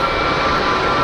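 A Boeing 737 jet at Geneva Airport gives off a loud, steady engine roar and whine, close by and unbroken, with no voices over it.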